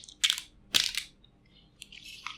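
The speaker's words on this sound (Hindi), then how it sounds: "और इसको मैं इस रैपर से बाहर निकालता हूँ" A Samsung Galaxy A10 phone is slid out of its plastic bag, giving a few short crinkly rustles and crackles, close and fairly quiet.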